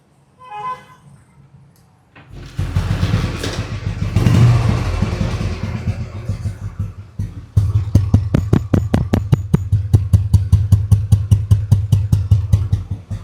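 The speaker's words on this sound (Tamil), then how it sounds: "நான் வெஹிக்கிள் ஸ்டார்ட் பண்ணி காமிக்கிறேன், அதோட தம்ப் கேளுங்க." A restored 1990s Royal Enfield Bullet motorcycle starts up, revs roughly, then settles into a loud, close, steady thumping beat at idle.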